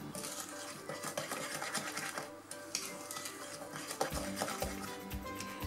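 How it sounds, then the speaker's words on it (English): A spoon stirs and scrapes ingredients together in a mixing bowl for melting moments biscuit dough, producing steady close scraping and clinking strokes with no voice. "now I'm going to mix it all in"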